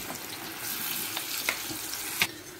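Garlic frying in butter in a pan for sweet chicken bites, giving a steady, soft sizzle with a few faint crackles and light clicks, close and without talk.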